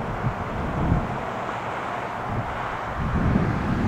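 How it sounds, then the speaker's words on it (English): Wind gusts buffet the microphone outdoors beside railroad tracks, low rumbling blasts rising and falling, strongest near the end. "Pretty windy out."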